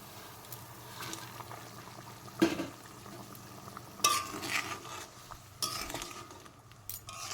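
Fried plantain pieces go into a simmering fish curry and get stirred in a pan. Faint bubbling runs under a few soft clinks and scrapes of a spoon, with no talking.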